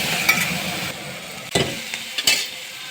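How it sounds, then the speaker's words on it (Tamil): Tomatoes with salt sautéing in a pan for brinjal gravy: a constant close sizzle broken by several sharp scrapes and clinks of stirring, with no voices. "உப்பு போட்டு நல்லா வதக்குங்க,"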